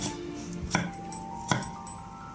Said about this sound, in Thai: เอากระชายแล้วมาหั่นเป็นชิ้นเล็กๆนะ